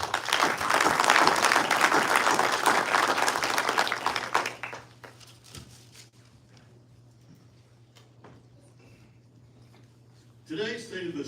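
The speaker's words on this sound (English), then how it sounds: "Please give our sponsors and committee members another round of applause." Applause from an audience at a city State of the City event, in honor of the sponsors and committee members, loud and sustained for about four seconds and then fading away, with a steady low hum and a few scattered claps.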